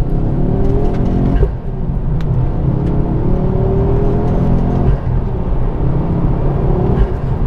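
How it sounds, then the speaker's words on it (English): A Ford Focus RS Mk2 with a five-cylinder engine revs loudly and steadily from close by, its rich droning note swelling and easing for several seconds with no talk. "Let's give them some five-pot sound."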